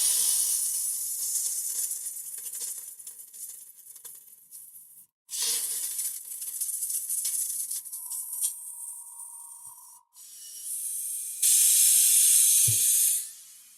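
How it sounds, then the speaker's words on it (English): An airbrush sprays out leftover orange wash in several bursts of airy hiss, close and fairly loud, with brief pauses between blasts and a stronger final spray. "Just make sure that first I remove all the orange wash from the airbrush."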